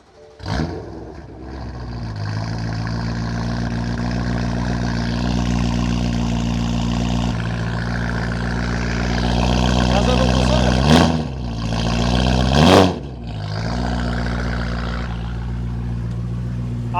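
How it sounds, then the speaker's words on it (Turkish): A BMW M3 engine idles with a deep, steady exhaust rumble, then revs sharply twice near the end. Voices can be heard faintly in the background. "Direkt egzozun sesini çek."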